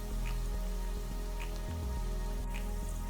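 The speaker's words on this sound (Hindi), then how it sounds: "गोल्डन ब्राउन होने तक इसको फ्राई करें।" Onions fry in oil in a pan until golden brown, giving a steady, dense crackling sizzle like light rain, close and unbroken with no talking.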